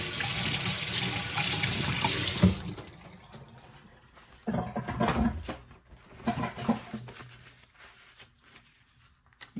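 Tap water runs steadily over scallions being rinsed in a sink, then cuts off and gives way to intermittent splashes and drips as the stalks are handled, close by with no voices.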